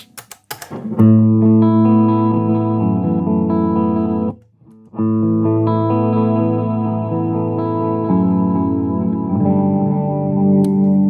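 Guitar played through a recreated Echoplex EP-3 tape echo, sustained chords trailed by repeating echoes, steady and fairly loud after a few sharp opening strums, with a short break midway, no voices.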